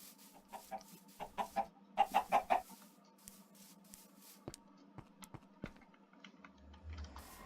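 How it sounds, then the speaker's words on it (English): Chickens clucking in Minecraft, a few short clucks in quick bursts over a quiet background, mixed with faint clicking keyboard taps. "First off, I need to check on the chickens."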